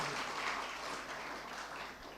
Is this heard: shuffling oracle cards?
no